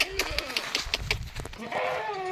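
Goats bleating on a farm, several wavering calls in quick succession at close range, mixed with other farmyard noise and a voice in the background.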